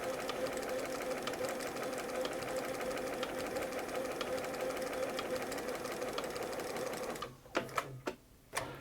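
A Bernina 930 Record electronic sewing machine runs with a steady, close mechanical whir and rapid stitching patter for about seven seconds, then stops, leaving a few separate clicks and knocks.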